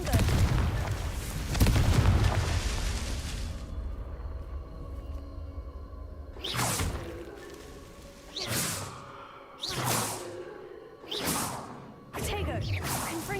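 Spell blasts from Confringo, the fire-blast curse in Hogwarts Legacy: a long loud roar at the start, then a series of sharp whooshing bursts every second or two, with no talk.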